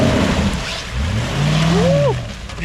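A UAZ Bukhanka van with a V8 engine revs while driving off-road, its engine note rising and falling over a couple of seconds, loud and close.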